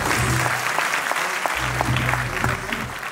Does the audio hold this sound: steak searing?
no